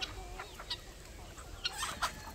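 Chickens cluck softly on a homestead, scattered short calls rising now and then over a steady low rumble, with a couple of louder clucks near the end.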